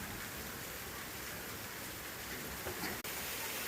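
Steady, faint rain hisses evenly throughout, with a soft continuous wash of drops and no voices.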